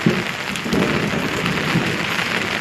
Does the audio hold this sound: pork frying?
no